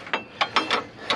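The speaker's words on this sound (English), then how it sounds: "And 10 millimeter socket on the bottom. Snug it down." A ratchet with a 10mm socket snugs down a bolt on an upper AC compressor bracket of a Honda CR-V, making five sharp, close clicks in quick, slightly uneven succession.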